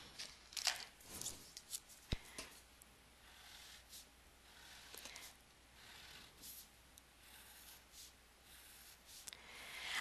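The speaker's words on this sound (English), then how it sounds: "I'm going to draw a chart." A pen moving across paper while a chart is drawn for an algebra lesson on factoring trinomials, giving soft intermittent scratching and rubbing strokes, close and faint, with no talk.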